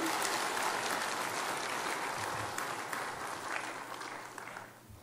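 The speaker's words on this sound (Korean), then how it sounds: "박수 한번 쳐주세요" A lecture audience claps together in a dense, sustained round of applause that gradually fades away.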